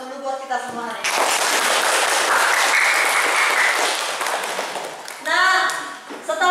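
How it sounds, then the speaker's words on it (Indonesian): A class of students bursts into loud, sustained clapping at the close of a classroom lesson, lasting about four seconds before tapering off, with a teacher's voice speaking just before and after. "Aplaus dulu buat kita semua hari ini."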